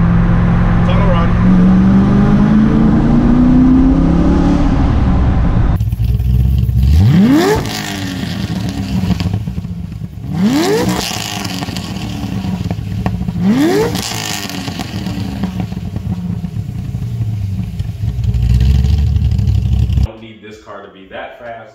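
A C4 Corvette engine revs hard during a tunnel run at a track, loud and close, with repeated rising accelerations and gear shifts echoing off the walls before cutting off abruptly.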